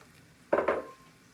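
Chopped onions go into a hot pan of sauteing garlic, giving a brief clattering sizzle that lasts about a third of a second before dying back to quiet.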